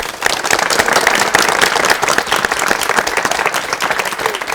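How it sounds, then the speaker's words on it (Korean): A Korean television studio audience applauds to welcome world-renowned violinist Chung Kyung-wha, with dense, steady clapping that stays loud and even throughout. "박수로 맞이해 주십시오"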